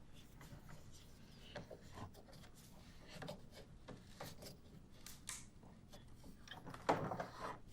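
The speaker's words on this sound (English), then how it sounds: "I'm going to go ahead and tighten the handle to the point where it pulls the head of the carriage bolt securely into the lower jaw" A wooden deep reach clamp held in a vise is tightened, giving a run of quiet creaking, rubbing and ratchety turns of the handle with scattered small knocks and a brighter squeak near the end.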